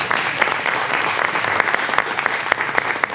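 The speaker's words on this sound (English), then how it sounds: "Let's give them a round of applause," An audience at a Manufacturing Day 2015 press event applauds local manufacturing companies: a steady, dense wash of many hands clapping, fairly loud and close, lasting the whole stretch with no voices over it.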